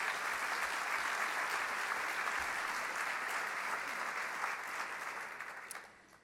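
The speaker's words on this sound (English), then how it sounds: "So big round of applause for them." Lunch-session applause at a 2017 NVOAD conference, a big crowd clapping steadily for several seconds before tapering off, moderately distant with no clear speech.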